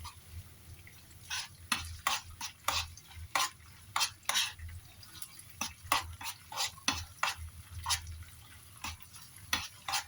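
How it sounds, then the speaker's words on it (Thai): Minced garlic stir-fried in a pan, a rapid series of sharp spatula scrapes and taps in an uneven rhythm over a soft sizzle, close and clear with no talk. "กระเทียมสับเข้าไปแล้วก็ผัดจ้ะ"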